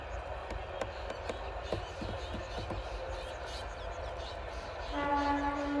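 Train passing beside farm fields, heard as a steady distant rumble with faint rhythmic clacks, then a sustained horn near the end.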